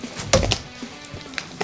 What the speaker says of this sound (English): I will cut away from myself because, safety first